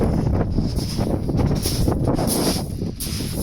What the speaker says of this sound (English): let's test this out in the old wind